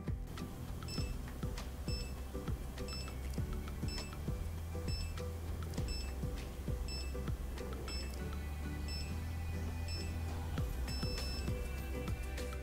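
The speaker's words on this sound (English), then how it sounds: "you will hear a beep every seconds and a long beep at the end" A Suunto 5 sports watch counts down on its timer with short, regular electronic beeps about once a second. They sound clear and close against a busy background.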